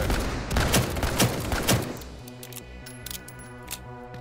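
Rapid gunfire bursts from the tactical shooter Firewall Zero Hour crackle loudly for about two seconds, then give way to quieter game music and faint effects.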